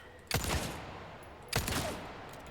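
Two heavy gunshot blasts ring out about a second apart in the Resident Evil 4 video game, each with a loud sharp attack and a decaying echo, with no talking.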